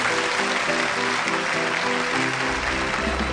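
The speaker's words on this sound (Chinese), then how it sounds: "对，再掌声。" Audience clapping in a studio at a televised job-interview talk show, a dense steady burst of applause throughout with a low musical sting underneath near the end.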